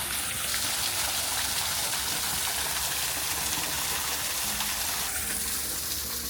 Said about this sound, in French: on doit pas m'entendre du tout parce qu'il y a une cascade à côté